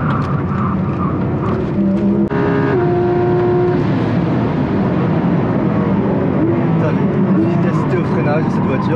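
A car on a race circuit, driven by a paraplegic driver, runs with a steady, loud engine drone from inside the cabin, while someone talks over it.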